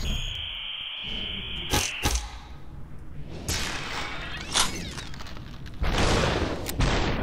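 Gunfire in the video game Superhot: a few sharp, loud shots spaced unevenly, each a brief burst standing out against quiet game ambience, with no talk over them.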